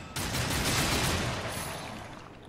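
Rapid burst of gunfire in the video game Darksiders II, a dense loud fusillade that starts abruptly and sustains with a slowly fading tail, no talking.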